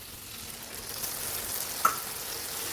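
Grated ginger and a spice mixture fry in a pan for a potato and soya chunk curry, giving a soft continuous sizzle with one brief sharp pop near the end and no talking.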